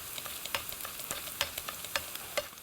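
Oil sizzles and crackles steadily in a pan as crab stick and tuna batter pan-fries, with sharp pops and spatters scattered throughout; no voices.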